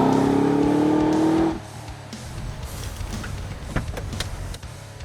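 HSV Maloo R8 LSA ute, a supercharged V8 pickup, revs hard and loud up close for over a second, then drops to a low burbling idle with a few sharp throttle blips.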